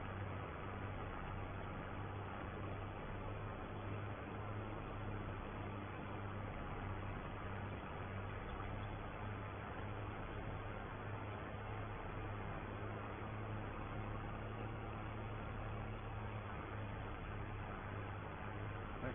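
Farm tractor engine running steadily while drilling winter rape, a constant low droning rumble with an even hum and no pauses, heard as if from inside the cab.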